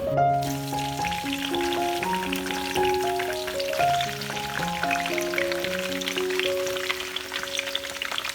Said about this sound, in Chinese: 当油温升高，大蒜开始煎出香味，把切好的上海青加到锅中。